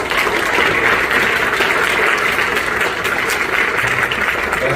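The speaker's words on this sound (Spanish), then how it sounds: "muchísimas gracias y un fuerte aplauso para doña Teresa." Audience applause at a literary book event at UNIBE university, a dense and steady wash of many hands clapping that stays loud and continuous throughout.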